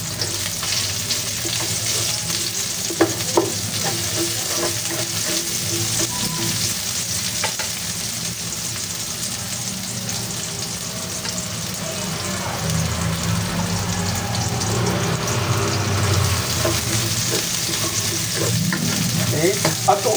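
Onions sauté in a pan for lomi with chicken liver and gizzard, giving a continuous close crackling sizzle under scattered stirring scrapes and clinks, a steady texture that swells a little louder later on.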